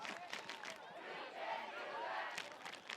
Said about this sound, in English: Oriole crowd chanting